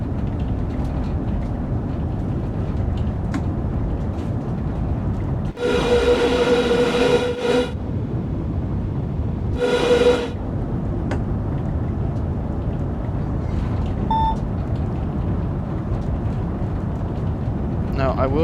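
A Class 395 Southeastern Highspeed train in Train Sim World 4, a steady loud rumble of rails and motors running throughout, broken by two bursts of a tonal horn-like warning, with someone talking over it.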